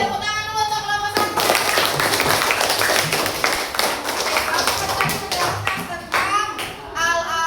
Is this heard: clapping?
yes